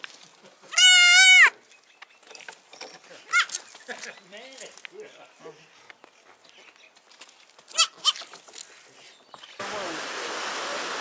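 Young goat bleating loudly once nearby, followed by softer scattered bleats and background sounds, with flowing noise at the end.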